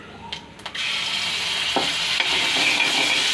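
Ginger garlic paste sizzles in hot oil in a pan. A steady, bright frying hiss runs throughout, broken by a few brief scraping stirs near the start.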